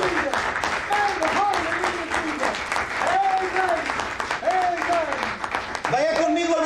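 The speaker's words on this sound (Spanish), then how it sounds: "Demos un aplauso al Señor en esta hora." Applause fills a church service, a steady wash of many hands clapping throughout, with voices rising over it at intervals.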